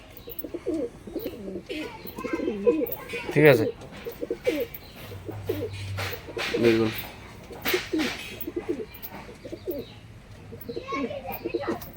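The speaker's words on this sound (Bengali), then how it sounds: "একদম গরম ডাক, ফুল অ্যাক্টিভ, দেখতে পাচ্ছেন কিরকম গরম আছে পায়রা।" Pigeons coo repeatedly in an indoor loft housing Chennai Madras, Dasu Madras and Andhra Madras breeds, their deep rolling calls close and active, with someone talking over them throughout.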